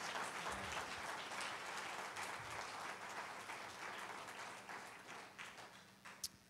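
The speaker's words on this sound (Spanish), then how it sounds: "Si va a aplaudir, dele ese aplauso a Jesucristo." A church congregation applauds in a steady, fairly distant wash of clapping that fades slightly toward the end.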